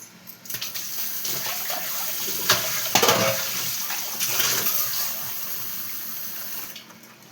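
Water is poured into a cooking pot of gongura leaves and prawns, a steady close gushing stream with brief splashy surges, alone without talk.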